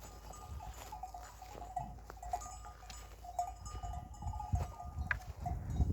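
A flock of sheep with lambs on a Turkish farm, heard at a distance: faint scattered bleats and occasional bell clinks over low rumbling outdoor background noise, no talk.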